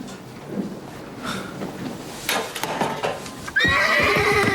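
A horse whinnies loudly near the end, a sharp high neigh with shaky trailing tones, after quieter stable rustling and a few faint clops.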